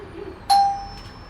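A home doorbell rings once, a bright electronic ding that rises sharply and fades over a fraction of a second against a quiet room.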